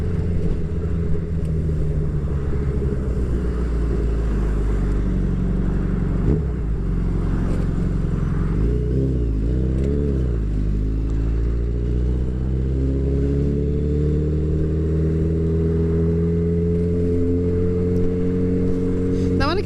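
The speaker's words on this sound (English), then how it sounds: "the traffic flow on the 405 comes and goes." Freeway traffic on the 405 flows past in a continuous roar, with engines rising and falling and a passing vehicle sweeping by mid-clip, heard from close range on the road.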